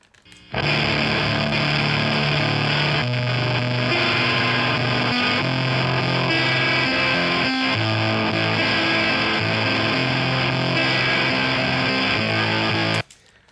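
A heavily distorted electric guitar plays steadily, thick and crunchy with a compressed, fuzzy, saturated tone that fills the sound throughout.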